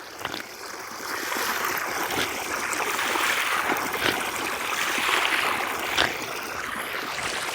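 Steady rushing water at an outdoor drinking water tap near the Shaheed Bhagat Singh Samadhi in Ferozepur, Punjab, a continuous close splashing flow with no talk.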